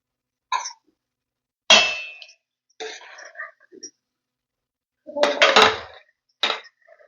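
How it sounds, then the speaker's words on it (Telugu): A spoon scrapes and knocks against a pan as chicken fry is stirred with coriander. The clanks and scrapes come in separate short bursts with silence between them, close and fairly loud. "కొత్తిమీర వేసి కలుపుతున్నానండి"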